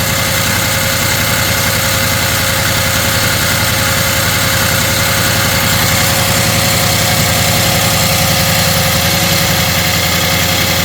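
A 2013 Audi A8L with a heating fault idles steadily, a loud, even, continuous engine hum with a low vibrating drone throughout.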